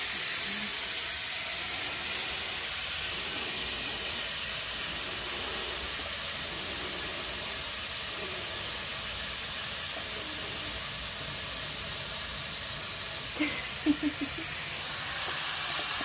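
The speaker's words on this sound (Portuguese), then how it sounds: "vou deixar fritar bem curtinho, bem torradinho." Corn frying in a pan, a steady broad hiss of sizzling held for the whole stretch with a couple of small knocks near the end.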